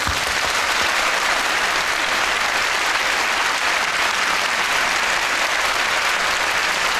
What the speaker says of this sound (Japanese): う一度彼らに盛大な拍手をお願いします。